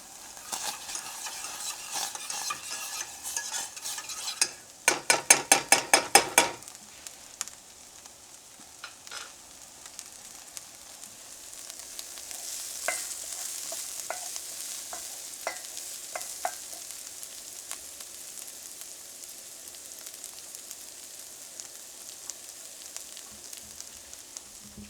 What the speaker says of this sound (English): I just got the sauce here heating up